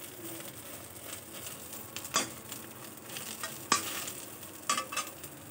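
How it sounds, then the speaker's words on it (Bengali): An egg frying in a pan makes a continuous close sizzle, punctuated by several sharp spatters and scraping clicks from a spatula or utensil against the pan. "আর এখানে ডিম ভেজে নিচ্ছি"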